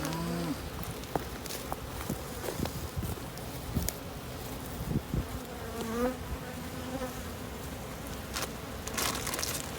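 Honeybees buzz in a dense, continuous drone around hives being moved onto migratory pallets outdoors, with scattered knocks and handling noises over the swarm.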